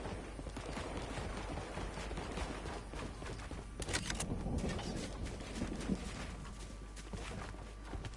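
Video game gunfire in a battle royale match, a dense far-off fusillade of rapid shots and bursts rattling on and off under constant background noise, with no talk.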